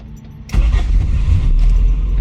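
A car engine cranks and catches, then settles into a loud, steady idle close by, started while a voltmeter checks the battery's condition.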